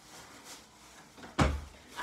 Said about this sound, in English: I had to close my door.